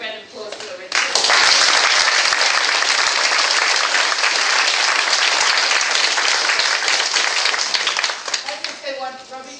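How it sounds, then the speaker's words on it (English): Crowd applause for a team at a corporate gathering, bursting in after a brief voice and holding as loud, dense clapping for several seconds before fading as talk resumes. "we're going to have a quick round of applause for the RED team."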